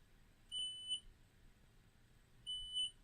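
A Mitutoyo CMM coordinate measuring machine gives two short, clean electronic beeps about two seconds apart. Each beep is a steady high tone lasting roughly half a second over a quiet background.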